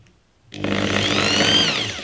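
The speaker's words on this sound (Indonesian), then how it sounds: "kita coba putar pelan apakah dia goyang pada RPM rendah cenderung goyang" A Doliz BA670 impact drill starts after a brief silence and spins steadily at low speed, giving a close, loud, humming whine with a faint rising tone.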